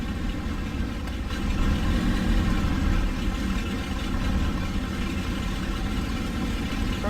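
Several military convoy vehicles idle together in a steady, continuous low rumble with a broad engine drone, close and unbroken, no talk over it.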